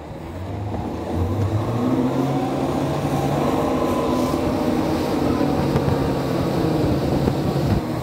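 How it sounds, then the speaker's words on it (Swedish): Motorboat engine on a fast boat drives steadily and loudly throughout, a sustained low roar with rising tonal lines as it accelerates up onto the plane. "Så kan vi jo dra båten i plan."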